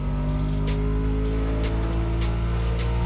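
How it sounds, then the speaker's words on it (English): Muscle car with a V8 engine in The Crew Motorfest racing game, heard from the cockpit: a loud, steady engine drone with several brief clunky gear-change breaks spaced about a second apart. "I do love how clunky the gear changes sound in the cockpit view."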